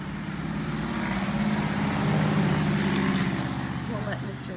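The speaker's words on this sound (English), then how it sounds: "We'll let Mr. Loud Truck get by." Loud truck passing close on a road, a steady broad engine rumble that swells toward the middle and slowly fades, with talk over it.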